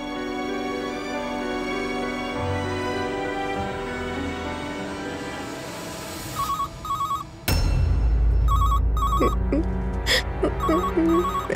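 Telephone ringing in a drama scene, short repeated electronic ring bursts over background music, followed by a louder rush of sound and further rings.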